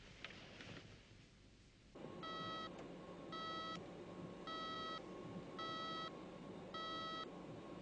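An electronic alarm beeps in regular pulsed bursts, a steady repeating pattern of bright tones over a low hum, starting abruptly after a brief quiet stretch and continuing at constant loudness.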